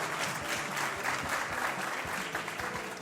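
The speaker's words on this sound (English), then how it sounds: "She's not here tonight, but still going to give her a round of applause." Applause from attendees at a city council meeting, steady, moderately distant clapping from a modest crowd, sustained evenly throughout.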